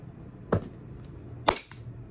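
An airsoft pistol test-fired twice, two sharp close snapping shots about a second apart, each followed by a brief rattle, with quiet room tone between.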